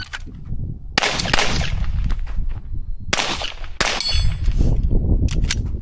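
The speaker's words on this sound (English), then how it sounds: "So I shot just above the plate." Gunshots aimed at a steel shooting plate, a few sharp loud reports with ringing metallic tails, spaced a couple of seconds apart outdoors.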